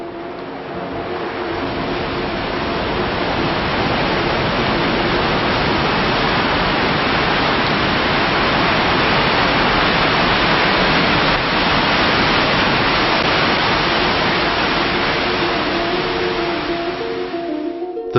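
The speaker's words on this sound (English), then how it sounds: "This is the biggest waterfall in Europe." Continuous roaring wash of the Rhine Falls at Schaffhausen, Switzerland, Europe's largest waterfall, a dense steady rush that stays loud and unchanging throughout.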